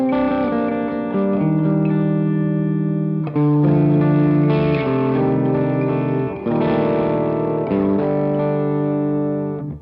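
Electric guitar through a 29 Pedals FLWR overdrive pedal playing sustained chords and picked notes with a slightly gritty, edge-of-breakup tone, loud and close, no voices.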